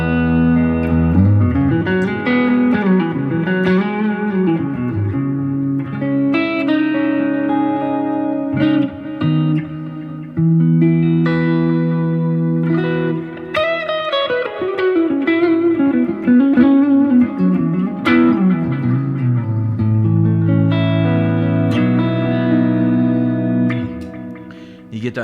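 Gibson Les Paul electric guitar played through a Quad Cortex with a clean Deluxe Reverb amp capture, a continuous run of melodic licks, bends and chords with reverb, loud and close with no talking.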